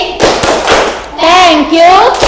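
A classroom group performs a rhythmic thank-you clap, several sharp, patterned claps close together, followed by children's voices chanting in unison.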